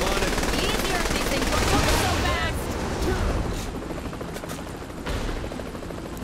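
Rapid AK rifle bursts fire during a Saints Row The Third shootout, loud and dense with booming game effects layered over the continuous gunfire.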